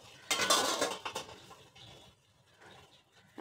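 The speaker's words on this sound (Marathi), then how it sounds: "पाण्याला उकळी आली, त्यावरती गाळणी ठेवायची." A metal steamer sieve, oiled, is set down over a pot of boiling water in a home kitchen, giving a brief burst of close metallic clattering followed by lighter scrapes and a soft bubbling background.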